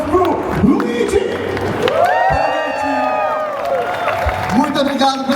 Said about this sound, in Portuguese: E na bateria, uma salva de palmas pro Luigi!